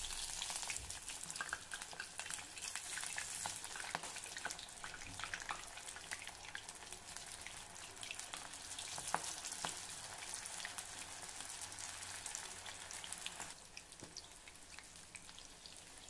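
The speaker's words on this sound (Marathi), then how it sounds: "आता आपण भजी घालून घेऊ।" Corn bhaji fritters, pressed tight between the fingers, are dropped into hot oil and fry with a faint, close, continuous crackle of popping bubbles. No one talks over it.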